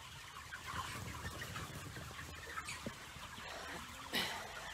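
Chickens on a farm cluck and call intermittently against steady outdoor background noise, with one brighter, louder squawk near the end.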